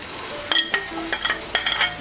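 A spoon stirring crushed cardamom and jaggery into a pumpkin sweet mixture in a pan, with a few close scrapes and light metallic clinks over a soft, steady background.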